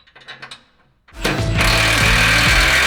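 Power tool driving the factory skid plate bolt back in under a 2021-or-later Ford Bronco, with a few quiet clicks first, then a loud close whirring buzz that kicks in abruptly and holds steady.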